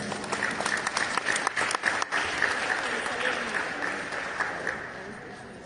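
Applause from an audience at an art collection reception in Peru runs steadily and fairly close throughout, with a few sharper individual claps early on.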